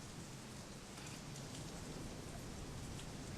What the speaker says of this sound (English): their backs hunched against the pelting rain